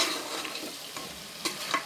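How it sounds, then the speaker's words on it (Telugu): Mutton pieces being stirred into a spicy gravy in a pan, giving a soft continuous sizzle with light scraping strokes and a couple of sharper clinks near the end, fairly quiet throughout. "మటన్ వేసి మంచిగా కలపాలి. పైనుంచి కిందకి, కింద నుంచి పైకి ఇలా కలుపుతూ ఉండాలి."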